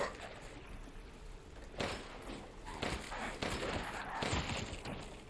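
Gunshots in the horror video game Resident Evil Village: several sharp shots stand out over a steady, fairly quiet background of game ambience, spaced irregularly through the stretch.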